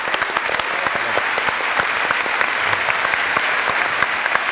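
Audience applause for a musician on a Turkish folk music show, a loud, continuous burst of many hands clapping, with sharper individual claps poking through the dense wash.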